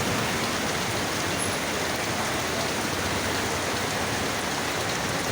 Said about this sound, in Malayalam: കണ്ടോളൂ, മഴയുണ്ട്.